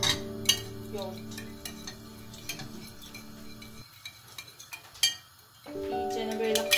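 A spoon stirs two spoonfuls of yogurt starter in a bowl for home-made yogurt, producing a few sharp clinks and soft scraping against the bowl over quiet background music.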